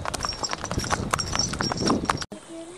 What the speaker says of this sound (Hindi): हमारे घोड़े पहलगाँव के घोड़े